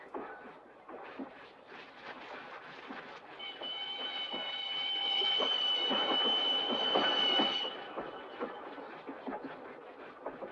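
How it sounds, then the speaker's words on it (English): A steam-era train in a 1965 Western rolls along the rails with rhythmic clacking wheels, swelling into loud metallic brake squeals and a sustained high screech mid-clip before easing back to steady clatter, no speech. "You see, the train doesn't stop at Tucumcari."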